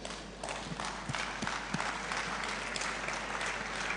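An audience at a tech event in Lagos breaks into sustained applause, a dense rain of many hands clapping at a steady level throughout.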